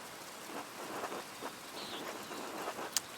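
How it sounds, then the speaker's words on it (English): Rain falls steadily in the medieval adventure game Pentiment, a soft, even hiss of drops with faint low rumbles underneath, heard alone and fairly quiet. "The rain is turning everything to mud."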